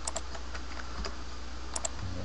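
Computer keyboard keys pressed during Blender modeling, a few sparse soft clicks close up, spaced irregularly, over faint steady background hiss.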